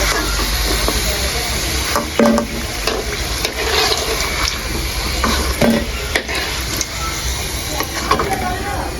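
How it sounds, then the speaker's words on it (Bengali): Palm-fruit pitha cakes, Bengali tal pitha made from palm fruit, frying in hot oil, giving a steady dense sizzle with occasional stirring clinks, while a voice talks over it at times. "পিঠাগুলো ভেজে নেবেন"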